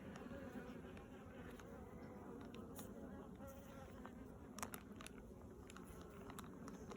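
Honeybees buzz around an opened hive, a faint continuous hum with occasional closer passes and soft clicks.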